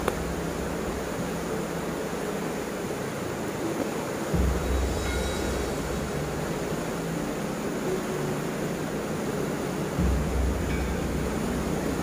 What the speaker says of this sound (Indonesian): airnya sangat deras sekali